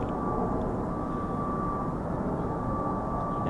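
F-35B stealth fighter jet returning after short and conventional takeoffs, a steady loud roar of engine noise with a sustained whine, continuous and fairly close throughout.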